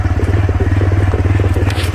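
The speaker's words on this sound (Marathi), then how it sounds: "आपली बाईक आहे चालली" A motorbike rides a rough rainy-season road near Devloli Dam in Panvel, its engine a close, loud, steady low drone with a rapid pulsing rhythm and scattered rattles from the rough surface.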